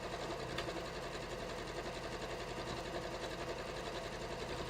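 A sewing machine runs steadily, quilting stitches in a circle around the brim of a batik floppy hat at a long stitch length. Its even motor whir and rapid needle patter are close and constant, with no talk.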